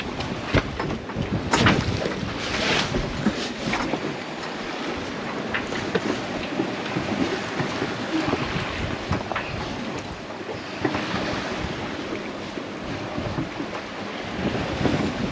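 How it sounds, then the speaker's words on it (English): Sailboat under way in steady wind on the open-ocean passage from Fiji to New Zealand, with continuous loud wind buffeting the microphone over rushing water and waves along the hull, no voices. "We're sailing."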